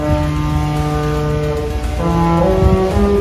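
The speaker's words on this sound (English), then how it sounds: "Somewhere over there, there's a horn!" Deep, sustained cruise ship horn sounding across the water near Fort Lauderdale pier, a loud steady tone that shifts to a second pitch partway through, heard alone without talk.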